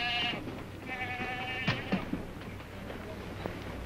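Sheep bleat in a short series of wavering calls at moderate distance, with some faint knocks and thuds in the background and no voices.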